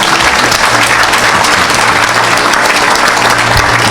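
A church congregation applauding during a service, loud sustained clapping from a large crowd that fills the whole stretch without a break.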